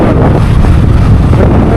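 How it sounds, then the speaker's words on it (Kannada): Cold wind in the Ooty hills while riding, heard as a loud, constant roaring rush of air buffeting the microphone throughout, with no speech. "ಚೆನ್ನಾಗಿದೆ ಗಾಳಿ."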